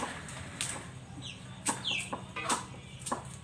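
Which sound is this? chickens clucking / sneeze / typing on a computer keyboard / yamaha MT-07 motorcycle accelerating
chickens clucking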